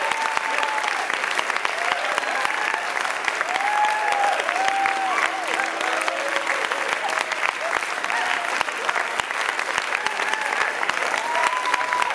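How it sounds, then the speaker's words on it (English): An audience claps loudly and continuously for a donkey character in a synagogue Purim play, the applause dense and sustained, with a voice and some tonal sounds faintly over it. "They're clapping for you, Donkey."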